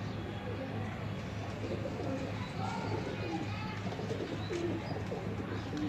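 A red-eyed pigeon coos softly and repeatedly among other pigeon sounds in a breeder's loft, over a steady low background hum and murmur.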